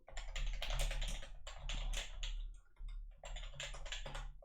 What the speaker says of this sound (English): I'm talking and typing.